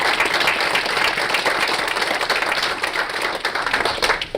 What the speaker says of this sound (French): ils méritent vraiment une main d'applaudissement pour leur extraordinaire travail.